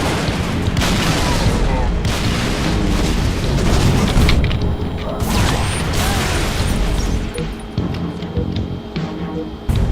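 A bomb detonates in the Halo game, a dense, loud rumble of booms and crashing debris that fills the whole stretch, with a game announcer voice speaking over it.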